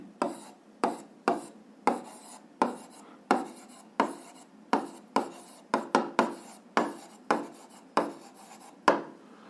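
A formula is written on a board during a physics lesson. Regular, evenly spaced strokes scrape up close, each a short sharp scratch that quickly fades, with no voices.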